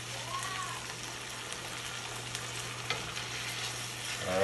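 A sesame garlic sauce sizzles and crackles steadily in a hot pan while being stirred for homemade Mexican-style burritos, a continuous close frying hiss with a low background hum.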